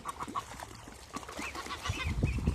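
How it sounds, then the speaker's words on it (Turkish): Young chicks and geese in a garden, soft scattered chirps and peeps close by, with a few louder clucking and honking calls and some rustling thumps building toward the end. "Her yer civciv kaynıyor."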